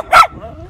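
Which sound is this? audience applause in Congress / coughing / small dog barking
small dog barking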